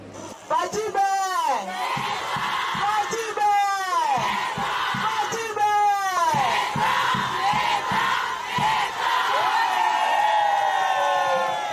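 A large crowd cheers and ululates at a closing ceremony for women's month in Kwilu province, with repeated rising whoops in waves over constant loud crowd noise and voices.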